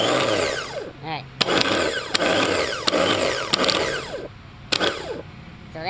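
A loose car starter motor jumped directly by arcing its terminal cranks in bursts, whirring and revving with sharp clicks between runs, loud and close, with some talk over it.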